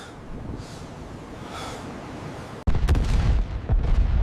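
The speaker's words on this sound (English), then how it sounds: "The USS Texas fired 255 14-inch shells at Point du Hoc in 34 minutes." The USS Texas fires its 14-inch guns in a naval bombardment of Pointe du Hoc: a sudden, heavy blast cuts through a windy rumble and leaves a loud, rolling roar with another thump close behind.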